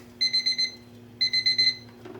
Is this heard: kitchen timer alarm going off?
yes